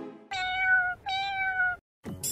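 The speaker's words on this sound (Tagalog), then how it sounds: "Masamang pusa." A cat meows twice in quick succession, each call drawn out and clear, close by, with a short fresh cry starting right after.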